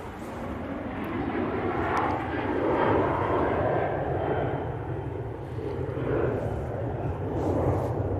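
A Tui airliner bound for Chambéry takes off at an airport, its jet engines producing a continuous broad roar that swells and holds steady, fairly loud and unbroken throughout.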